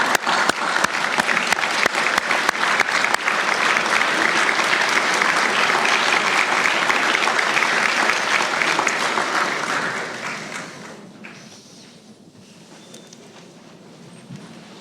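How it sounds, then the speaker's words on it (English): Graduates at a university conferring ceremony applaud their families in a big hall, a loud dense roar of clapping that runs for about ten seconds, then drops off abruptly to a quiet murmur. "give them a big round of applause"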